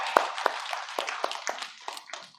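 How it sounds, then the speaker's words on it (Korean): A church congregation at a Sunday worship service gives a short round of applause, with several sharp, distinct hand claps that fade quickly over a couple of seconds at moderate loudness. "하나님께 영광의 박수 드리겠습니다."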